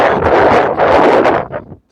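Strong wind at a rural homestead buffets the microphone in a loud, gusty roar that surges twice, then drops off abruptly near the end.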